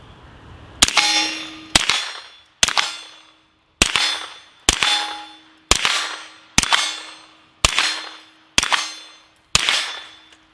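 Ten suppressed gunshots firing full metal jacket rounds, each a sharp metallic crack with a short ringing tail, spaced about a second apart in a steady sequence, close and loud with no voices.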